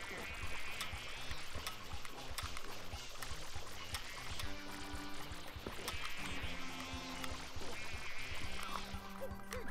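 Suction ducks in Super Mario Sunshine quack amid watery, splashing game sounds and background music, a busy, moderately quiet mix of squawks and flowing water with a voice talking faintly in places.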